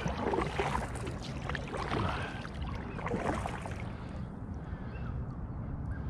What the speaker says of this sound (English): Just have a little quick paddle over to Stu